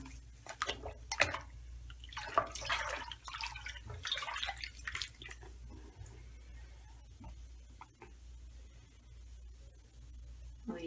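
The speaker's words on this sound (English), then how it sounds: "So that is foaming. Fizzing." A homemade bath bomb fizzes and foams in a tub of water, giving soft, irregular crackling and bubbling with scattered little pops and drips over a quiet background.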